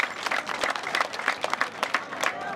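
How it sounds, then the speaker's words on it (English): Crowd clapping at an outdoor cultural festival in Genieri, a Mandinka village in Gambia, a steady, fairly loud patter of many hands with scattered sharper claps. "I want you to clap for them please"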